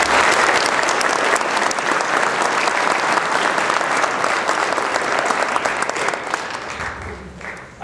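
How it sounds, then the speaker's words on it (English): Indoor audience giving a sustained round of applause at a park visitor-milestone ceremony, dense clapping at full strength for nearly eight seconds, tapering slightly at the end. "Let's give him a round of applause."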